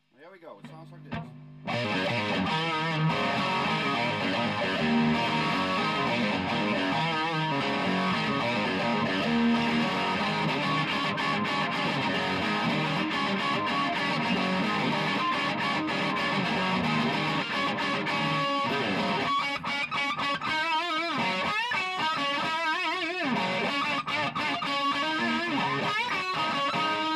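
Fender Stratocaster with Texas Special pickups through a Flynn Amps Hawk treble booster, a loud, bright, distorted electric guitar playing continuously after a brief quiet opening.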